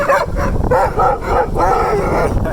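A pack of sled dogs outdoors in the cold, barking, yipping and whining excitedly in quick overlapping bursts, loud and close, with no pause in the chorus.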